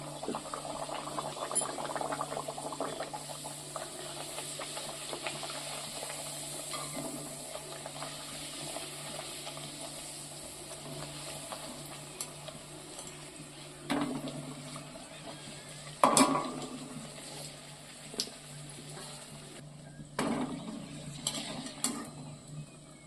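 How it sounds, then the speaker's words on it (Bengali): Rolled luchi (puri) dough rounds fry in hot oil, making a continuous soft bubbling hiss with occasional light clinks and scraping of a utensil, close and quiet with no one speaking. "তেলটা গরম হয়ে এসছে বেলে রাখা লুচিগুলো আমি তেলের মধ্যে দিয়ে দিচ্ছি"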